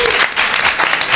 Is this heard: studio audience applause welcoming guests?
yes